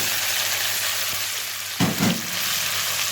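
Chopped tomatoes and spices go into a hot karahi where garlic and ginger are already frying over high heat, a steady loud sizzle with a short burst of stirring and louder bubbling midway.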